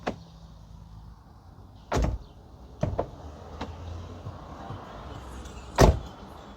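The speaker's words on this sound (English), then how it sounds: "let's do a little door check" Several sharp thuds and clicks of a 2002 Mercedes A-Class door being opened and shut, spaced unevenly over a quiet background, fairly close.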